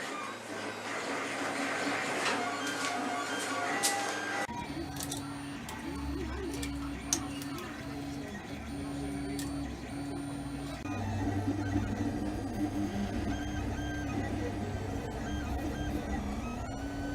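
A Power Spec 3D printer runs nearby, its stepper motors whirring and whining in shifting tones, with scattered ticks and clicks as the print head moves.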